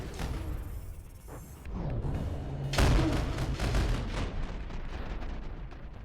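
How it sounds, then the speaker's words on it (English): A torpedo explodes in the game From the Depths: a deep, rumbling explosion erupts midway, a heavy boom that lingers in a long rolling decay over steady background noise. "one of them just blew up a torpedo that was getting near the ship"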